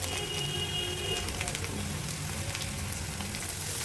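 Black pepper and spices frying in oil for black pepper chicken, a steady close hiss and crackle that holds evenly without talking.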